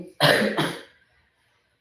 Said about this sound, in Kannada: ಥ್ರೋಟ್ ಪ್ರಾಬ್ಲಮ್ ಕೋಫ್ ಕಾಫು ಕೆಮ್ಮು ಹಾಗೆ ಶೀತ ಎಲ್ಲ ಆಗಿದೆ